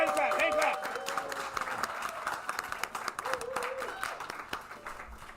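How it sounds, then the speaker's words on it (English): Group clapping and cheering welcome a guest of Board Game Geek at a live board game chat event, with a dense burst of applause fading into scattered claps under ongoing voices. "Clap, clap, clap, clap, clap."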